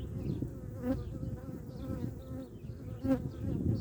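Honey bees buzz steadily inside a split beehive, a close, continuous drone with a few individual bees flying nearer and louder at moments, quiet overall and without talking.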